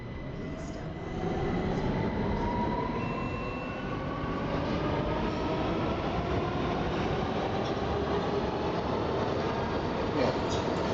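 Subway train in a video game, a loud, continuous rolling rumble with rising and falling whine of motors as it runs steadily along the track, sustained for the whole stretch.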